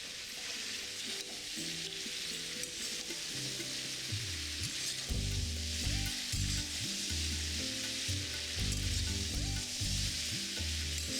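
Pumpkin, carrot, beans and yardlong beans fry in a wok for a winter vegetable khichdi, a steady close sizzle under a loud musical backing track, with no talking.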